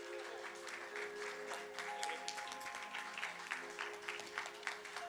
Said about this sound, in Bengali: সবার জন্য একটা জোরে হাততালি